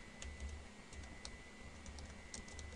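Quick, faint computer keyboard typing as a layer name is entered in Flash CS4, light clicky keystrokes in a short burst over a steady background hiss.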